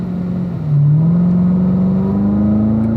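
A car accelerates out of a turn, its engine note climbing steadily after a brief dip, loud and close, with a smooth rising whine and no talk over it.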